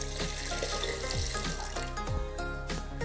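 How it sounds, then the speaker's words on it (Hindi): A glass of water is poured into a pressure cooker holding washed jackfruit pieces, a steady close splashing stream that carries on through the whole stretch with faint knocks of the cooker. "अब इसमें एक गिलास पानी डालेंगे"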